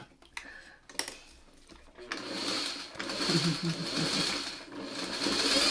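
A sewing machine stitches a Spinning Diamonds mini quilt. After a few clicks and thread tugs, the motor starts up and runs in a steady, close whirring stitch to the end.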